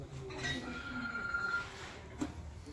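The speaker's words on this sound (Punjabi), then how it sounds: "ਫੋਨ ਕਿਹਦਾ ਆ ਗਿਆ ਚਲੋ ਸੁਣ ਫੋਨ" A mobile phone rings with an incoming call amid machinery work, a brief, faint ringtone tone rising from low background rumble for under a second.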